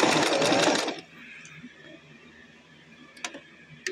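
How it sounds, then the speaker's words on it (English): A sewing machine runs in a fast, loud burst of stitching for about a second, then stops, leaving faint room noise and a few small clicks. "the only reason we're having to use a sewing machine"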